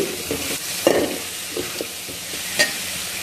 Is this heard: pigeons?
no